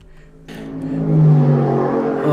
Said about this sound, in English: with his loud ass car?